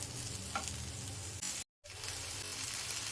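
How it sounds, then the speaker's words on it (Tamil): Small tomatoes frying with onions in a pan for radish chutney, a steady close sizzle with faint stirring, broken by a brief moment of silence midway before the sizzling resumes. "இப்போ இது கூட நம்ம 2 தக்காளி சின்னதாக 2-3 தக்காளி போட்டுக்கணும். அதையும் இதில் வறுத்துக்கணும்."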